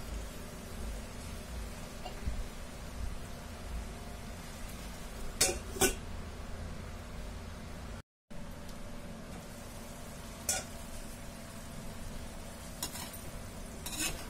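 Raw mango curry cooking in a pan: a steady low simmering hiss with a few short scraping stir strokes, a brief dropout midway, no talking.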